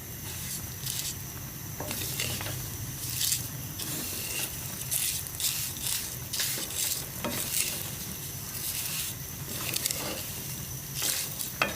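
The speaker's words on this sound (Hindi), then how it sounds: "अब ये 200 ग्राम मैंने सेवियां ले ली हैं। अब इनको हल्का सा हम भून लेंगे।" Vermicelli roasts lightly in a pan over low heat, a continuous soft sizzle broken by repeated scraping stirs of a spoon against the metal, close and steady with no talking.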